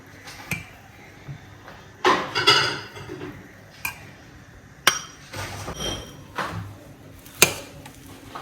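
Rice is dished up from a pot with a spoon, giving a series of irregular metallic clinks and scrapes, close by, separated by short quiet gaps, with no talking.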